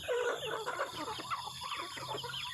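Chickens cluck and chatter close by during morning feeding in a rural farmyard, a busy overlapping mix of short clucks and calls with a faint low hum beneath.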